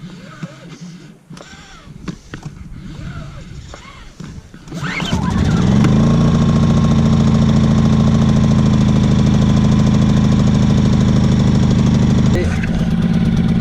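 A brand-new small engine is pulled by its cord several times, coughs, then catches and runs loudly at a steady, rough idle that fills the rest of the clip before briefly dipping near the end.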